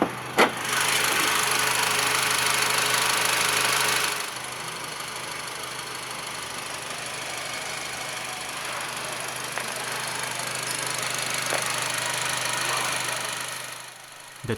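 A 2013 Honda CR-V's 2.0-liter Honda R20A engine idles steadily with a low hum and faint mechanical ticking, louder for the first few seconds, then settling into a quieter, even drone.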